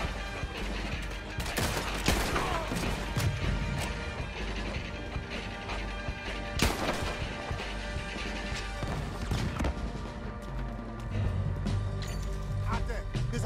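Repeated enemy gunfire from a tower during a beach battle in Red Dead Redemption 2, sharp loud cracks and bursts layered over constant battle noise, clattering impacts and mechanical sounds, with no clear talk.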